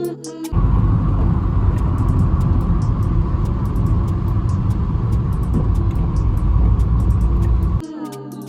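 Toyota AW11 MR2 car driving: a loud, steady engine and road rumble fills most of the clip, close and continuous, with brief quieter moments at the start and end and no talking.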